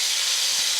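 Steak fat edges sear in a hot skillet, giving a loud, continuous sizzling hiss up close for a brief moment.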